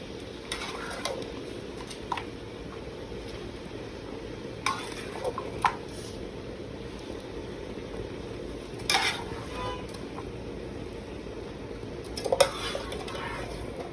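Chicken pieces fry in hot oil in a pan, giving a steady low sizzle throughout, with a few sharp clinks of a utensil against the pan as it is stirred.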